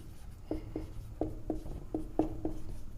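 A theorem being handwritten during a class 10 maths lesson, with short scratchy pen or chalk strokes tapping in an uneven rhythm about every quarter to half second, close and quiet over a low room hum, no talking.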